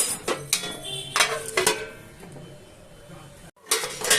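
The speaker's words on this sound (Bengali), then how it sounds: "এবার আমি ঢাকনাটা তুলে ফেললাম।" Metal clatter of a lid lifted off a cooking pot of fish curry with potato and eggplant, several sharp clinks and scrapes close by, then a quiet simmer and a final knock.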